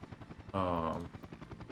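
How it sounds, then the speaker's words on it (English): An Mi-10 heavy transport helicopter in the city-building game Workers and Resources: Soviet Republic gives a short swell of droning rotor and engine noise that rises abruptly, holds for about half a second, then fades under a faint background. "Is this a helicopter? Like, is there actually a helicopter up here? Yes, there's an Mi-10."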